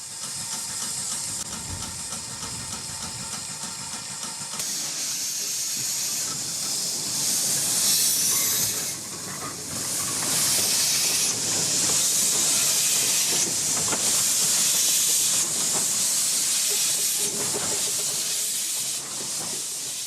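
Steam hiss from River Irt, an 0-8-2 tender locomotive built in 1894 and rebuilt in 1927 on a 15-inch gauge railway, loud and continuous, swelling in bursts with railway clatter beneath and no talk.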